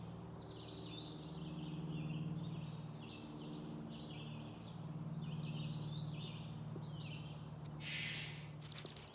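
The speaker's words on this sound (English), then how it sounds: "you can hear all the birds in the forest" Birds call and chirp in a forest in July, scattered short tweets over a low steady hum, fairly faint and with no talking.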